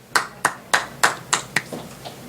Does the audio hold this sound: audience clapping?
yes